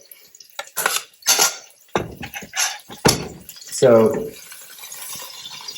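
Shrimp tossed with garlic in a pan on the stove, making a run of clattering metal knocks and scrapes in short bursts, close and fairly loud, with a voice speaking between them.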